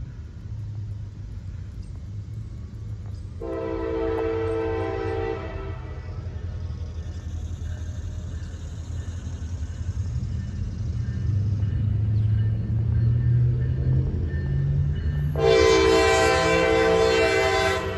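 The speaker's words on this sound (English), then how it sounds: "They got a train coming through the depot town." A train passes through a small depot town, its horn blaring in two long blasts separated by several seconds, over a steady rumble of rolling cars that swells toward the end; nobody speaks.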